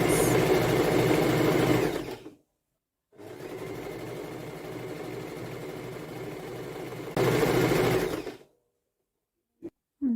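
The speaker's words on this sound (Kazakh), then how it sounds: "Енді осыны машинкада қосып шығамыз. Матаның ұшынан бастап, кәдімгі түзу тігіспен жүргізіп тігіп шығамыз." A sewing machine runs a straight stitch along the edge of red and green fabric pieces being joined. The motor whirs loudly in three runs, with a short break after the first and a louder final burst, then stops. No one speaks.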